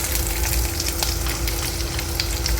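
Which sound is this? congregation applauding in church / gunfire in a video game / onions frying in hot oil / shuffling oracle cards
onions frying in hot oil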